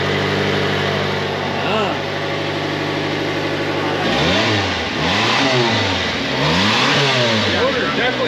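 A mini truck engine running and revving after fresh oil, starting with a steady idle and then swelling through several loud rev cycles, with people talking over it.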